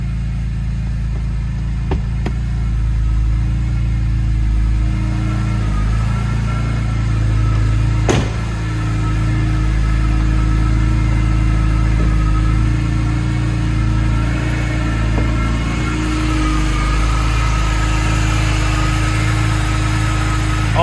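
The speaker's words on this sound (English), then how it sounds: "I'm going to walk around to the front and show you the engine while it's running." A 2001 BMW E46 M3 Touring with the S54 six-cylinder engine idles after a cold start, a steady, loud mechanical hum close by with one sharp click partway through and no talking.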